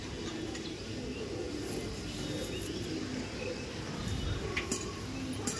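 Madras owl-face pigeons coo softly in a quiet loft, with faint chirps and light background rustle around the low, murmuring calls.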